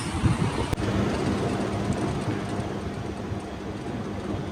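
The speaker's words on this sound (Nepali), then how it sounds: "यस्तो रेलहरू पनि गुड्दो रहेछ है यहाँनिर" A steady, heavy rumble of a train rolling past in Fujairah, broadband and continuous with a slight clank early on, no voices.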